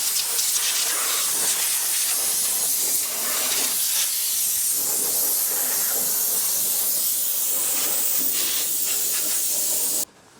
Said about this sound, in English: If you got compressed air, let's use that to get out the puddles.